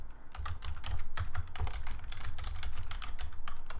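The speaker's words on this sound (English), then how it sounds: "you can hear me clacking away on my computer" Fingers clack quickly on a computer keyboard in a steady run of close, crisp keystrokes, with no talking over them.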